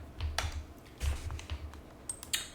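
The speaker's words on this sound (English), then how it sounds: "I can type in the word exit." Typing on a Logitech keyboard, a quick run of separate key clicks in short bursts with small pauses, close and fairly clear, with no voices.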